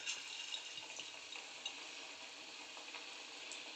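Capsicum pieces sizzling steadily in hot oil, a dense continuous frying hiss with faint crackles and small pops throughout, heard close with no voices.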